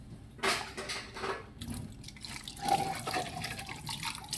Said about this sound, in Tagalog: Naghuhugas ako ng plato dito.